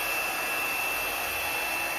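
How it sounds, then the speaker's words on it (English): A blow dryer runs steadily on high, blowing over wet poured paint to mix it, as a loud continuous airy whoosh with no talking. "what the blow dryer does is it mixes my paint"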